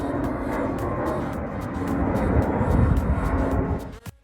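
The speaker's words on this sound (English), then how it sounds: "It is not uncommon to see multiple planes coming and going in this area." A broad, rumbling airplane roar swells and fades as it passes over the Landon Trail in Kansas, with faint ticking clicks over the top.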